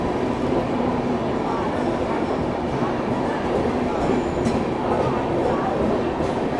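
A Tejas Rajdhani Express train standing at a station gives off a steady rumbling rail ambience, with people talking faintly underneath.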